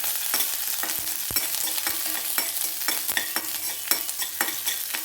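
Chana dal, urad dal, a dried red chili, a green chili and curry leaves fry in hot oil for a plantain yogurt curry, with a loud sizzle broken by repeated scraping stirs of a spoon against the pan.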